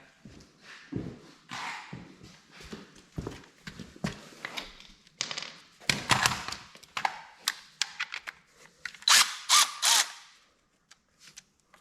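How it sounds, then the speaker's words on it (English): A ratchet loosens a deck cover bolt on an Exmark Quest zero-turn mower, giving bursts of quick metallic clicking and pawl ratcheting in short uneven runs, close by and fairly loud, with light knocks and shuffling between strokes. "I have to use the ratchet for that one in the back"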